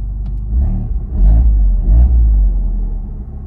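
Abarth 695 Rivale engine in sport mode with the exhaust valves closed, giving a few short deep revs and throaty rumbles heard close and loud.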